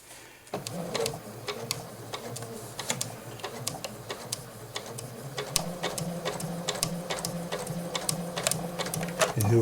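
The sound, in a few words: Janome 8077 sewing machine stitching a blanket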